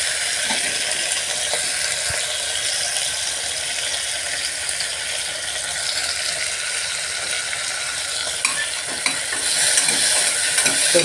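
Tomatoes and onions frying in a pan as they are stirred for a chicken kulambu: a continuous bright sizzle with scraping and clacking from the spoon, close and steady, with no talk.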